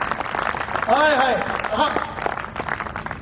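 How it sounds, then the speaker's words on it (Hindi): An audience at a Hindi poetry recital applauds in a loose, moderate wash while a voice cries out over it and other voices talk. "आपकी तालियां कमजोर"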